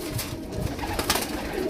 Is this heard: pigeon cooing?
yes